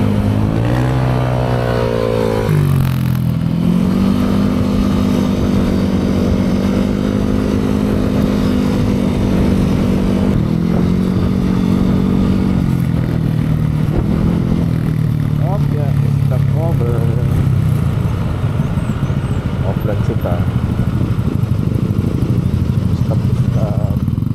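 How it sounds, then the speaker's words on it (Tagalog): Motorcycle engines drone close behind, trying to overtake, revving and shifting pitch as they ride along, with people talking over the steady engine noise. "May mga motor din sa likod. Gustong overtake kami."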